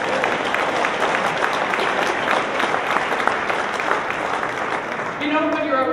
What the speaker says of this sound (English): Let's have a round of applause just for that.